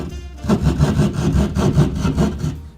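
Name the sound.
saw cutting drywall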